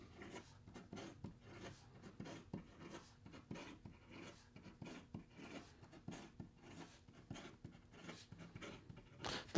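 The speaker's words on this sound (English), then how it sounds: "In regard to some fast writing," A Makar Torpedo fountain pen with a medium nib scratches quickly across paper in rapid, rhythmic strokes, faint and close, each short scrape followed by a brief pause.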